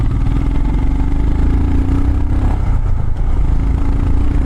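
Custom Royal Enfield Himalayan single-cylinder motorcycle engine, heard up close from the rider's seat while riding, a steady loud throbbing hum with slight rises in revs and constant wind rush throughout.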